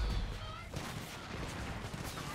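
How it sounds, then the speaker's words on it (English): Gunfire and an explosion in the video game Far Cry 5 arcade mode: a heavy thump at the start followed by a scattered fusillade of shots. Fairly quiet, with no one speaking. "That was a cool explosion."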